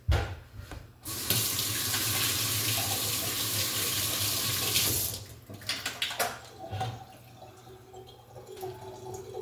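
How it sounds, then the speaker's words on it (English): Tap water gushing into a sink while hands are washed, a loud steady stream for about four seconds that then stops, leaving scattered drips and small handling sounds, with no voices. "Go wash my hands."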